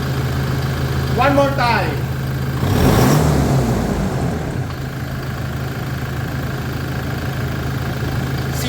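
Car engine fitted with an aFe Momentum GT cold air intake and a full HKS exhaust idling with a steady low drone, with a brief rev swelling midway, and someone speaking briefly over it.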